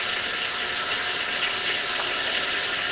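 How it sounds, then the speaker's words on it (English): Water rushes steadily out of the drain valve of an electric water heater during a clean-out, with the pressure relief valve opened, giving a constant hissing, splashing flow with no talk. "open up the pressure relief valve to help in draining the hot water heater"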